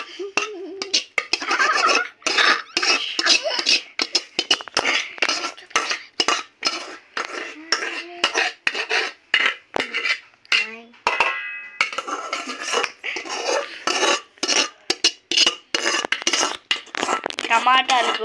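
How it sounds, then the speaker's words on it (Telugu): Spoon scraping and clinking against a bowl while tomato paste for homemade pickle is mixed, a busy run of rapid metallic stirring strokes and taps, close and fairly loud throughout. "ఇప్పుడు టమాటా పేస్ట్ ఉంటాయి అది మిక్స్ చేయాలి"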